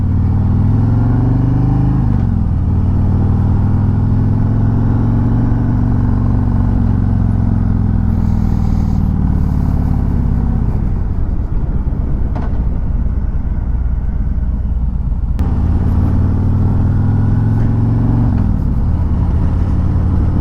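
A Harley-Davidson Road Glide 3 three-wheeled motorcycle accelerates on a test ride, its engine loud and close, rising in pitch through several gear shifts with steady road and wind noise around it.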